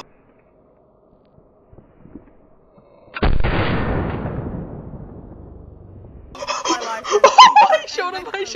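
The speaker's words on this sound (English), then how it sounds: "I shot him! I no-scoped him!" One loud gunshot in the video game Unturned, a sharp blast with a long fading tail, followed by excited talking and laughter from nearby players.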